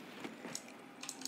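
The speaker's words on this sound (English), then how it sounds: "gotta reload the Lewis" A Lewis gun being reloaded in Black Ops Zombies, a few quiet mechanical clicks and ratcheting clacks in quick succession over faint background game sound.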